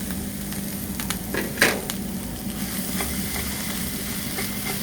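Dates and red chilli flakes sauté in a pan with a steady, soft sizzle and faint stirring scrapes, plus one brief clatter partway through; no voices.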